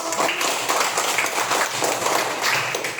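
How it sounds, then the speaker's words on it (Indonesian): Primary school classroom applauding group 1, a brief, dense burst of many small hands clapping close by, steady throughout. "Tepuk tangan untuk kelompok 1"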